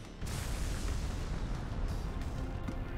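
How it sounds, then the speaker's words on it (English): A Tail Beast Bomb attack explodes in Naruto Shippuden Ultimate Ninja Storm 4, a sudden loud booming blast that sets in abruptly and rumbles on as one dense roar. "Tail Beast Bomb!"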